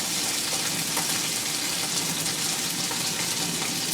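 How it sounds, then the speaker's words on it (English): Steady, dense sizzling of steak searing in a hot pan, a continuous crackling hiss with no pauses or voices. "Now you hear that sizzle?"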